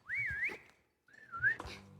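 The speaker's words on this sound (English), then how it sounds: "I shouldn't whistle" A person whistles into the microphone, close and clear: two sliding, wavering phrases split by a brief pause, with faint handling noise under them and no speech.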